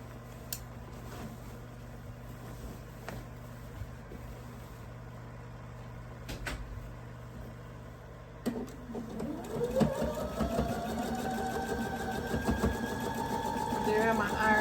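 Sewing machine stitching a pixel quilt over straight pins, quiet at first with scattered clicks, then a steady, close mechanical whir of stitching that builds and runs continuously through the second half.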